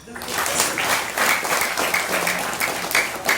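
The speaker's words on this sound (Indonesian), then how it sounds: "Tepuk tangan" An audience at a Maulid Nabi religious gathering breaks into applause, a dense wash of clapping from many hands that swells in waves and continues steadily.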